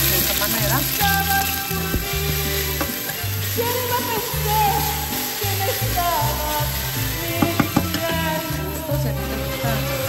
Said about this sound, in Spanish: Como es calentadito el aceite, voy a ponerla a freír de esta manera.